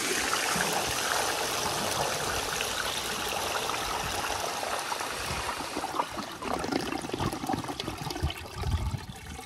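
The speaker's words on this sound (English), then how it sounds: "let's see if it could finally take it in one flush" A 1920 Standard ejecto toilet flushes, water rushing and gurgling loudly and continuously close by, with the flow turning choppier and sputtering toward the end.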